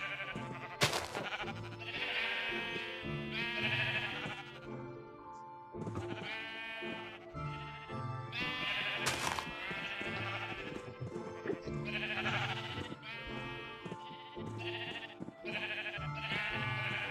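Sheep in Minecraft Legacy Console Edition bleat again and again at close range, the short cries recurring throughout over steady background game music.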